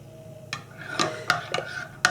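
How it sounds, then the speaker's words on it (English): A spoon stirs heaping tablespoons of instant coffee into water, giving a few close, bright clinks and scrapes against the container in quick, uneven succession. "I'm going to drop in about 3 of these heaping tablespoons, mix this up and see what I think."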